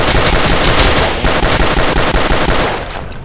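Rifle and machine-gun fire in the World War I video game Entrenched, a loud, continuous barrage of rapid shots that fills the whole stretch with a dense battlefield roar.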